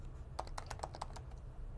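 Fingers tap out a short burst of keystrokes on a computer keyboard, about eight distinct clicks in quick irregular succession, close and fairly quiet over a soft background hiss, with no voices.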